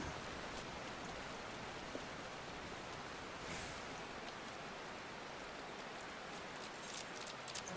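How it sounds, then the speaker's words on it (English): Steady rain falls in the video game Final Fantasy XIV, a dense, even hiss of drops spread across the whole stretch with a brief brighter swish midway and light patter near the end, with no talking. "Why am I so not surprised it is raining?"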